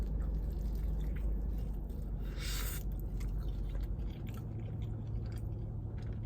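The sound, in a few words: chewing a burrito with rice, guacamole and salsa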